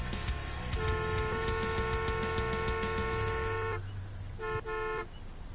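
In the Taxi Life city driving game, a car horn blares in one long held honk followed by a shorter second blast, loud and close over traffic rumble.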